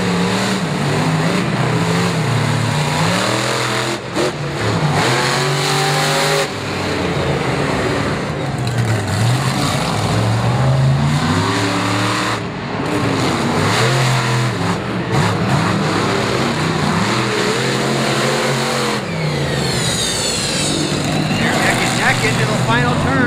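Monster trucks Bigfoot and Samson race head to head at Bristol Motor Speedway, engines roaring and revving loudly and continuously, with an announcer's voice running over the engine noise.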